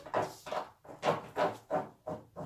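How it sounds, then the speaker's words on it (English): A dog scratches at carpet, about seven rough strokes in a steady back-and-forth pattern, close by with no talking. "that's my dog scratching away at the carpet"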